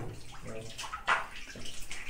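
Clean, clear water in a cacimba well at Triunfo, Pernambuco, stirred by hand, giving soft close splashes and a brief sloshing burst midway, with no talk.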